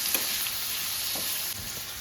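Tomatoes drop into a hot frying pan for a chutney, giving a steady close sizzle with light stirring scrapes and no voices.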